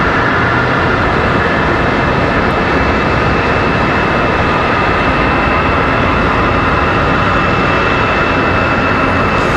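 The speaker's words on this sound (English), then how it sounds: "So we got this A321 off to Harrisburg, American Airlines 1107" American Airlines Airbus A321 jet airliner at Charlotte Douglas airport, a loud, continuous, dense engine roar close by with a steady high whine, no voices.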